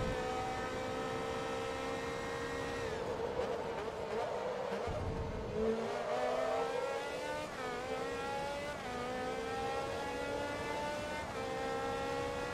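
Race car engine in Forza Motorsport 2 droning at high revs, a sustained buzzing whine that climbs and shifts pitch several times, with no talk.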